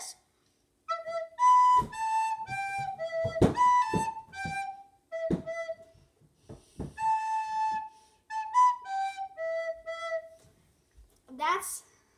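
Recorder playing the opening lines of a song, a run of clear, breathy whistled notes with short gaps between phrases, close and solo, ending in a brief squeak.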